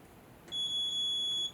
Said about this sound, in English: And we're going to listen for a beep.